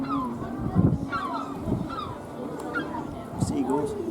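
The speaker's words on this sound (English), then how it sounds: "Seagulls." Seagulls call at Winthorpe Beach, a series of fairly close, harsh squawks and honking cries repeated every second or so over a soft outdoor background.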